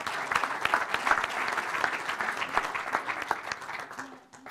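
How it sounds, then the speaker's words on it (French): Audience applause at a French sports club presentation in the Drôme, lively close clapping with distinct individual claps over a dense crowd, fading out near the end. "On l'applaudit, s'il vous plaît."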